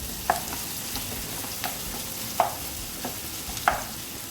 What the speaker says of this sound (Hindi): और ये प्याज को हम लोग फ्राई करेंगे तब तक ये गोल्डन ब्राउन कलर का ना हो जाए।